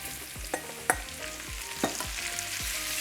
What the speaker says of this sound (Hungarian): nagyon magas hőfokon, tehát a legmagasabb hőfokon az összes gombát belerakom